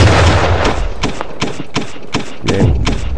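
Gunfire in Pirate Core, a pirate ship PvP game, with a rapid sequence of sharp booming shots and heavy thuds hitting at an irregular rhythm over a loud rumbling background.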